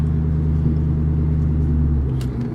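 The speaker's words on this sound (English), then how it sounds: "It's a nice sounding exhaust." A 1999–2004 New Edge Ford Mustang GT with 4.10 gears and an aftermarket exhaust idles or cruises with a deep, steady low rumble, close and loud throughout.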